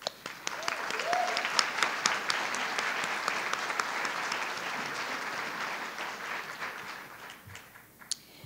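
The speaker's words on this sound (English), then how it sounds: "you all deserve a round of applause." Sustained applause from a graduation audience at a winter commencement ceremony, dense steady clapping filling the hall for several seconds before tapering off near the end.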